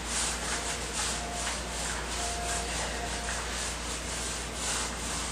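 A paint roller rubs sealer across bathroom floor tiles in a steady, continuous back-and-forth swish, close and fairly loud, with no voices.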